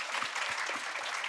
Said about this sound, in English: please give them a massive round of applause for all the panelists.